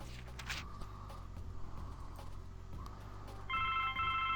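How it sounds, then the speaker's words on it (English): A telephone rings in the indie horror game The Black Well Legacy, faint and steady over a low background hum, with a clearer electronic ring tone in the final second; no one talks. "The phone's ringing."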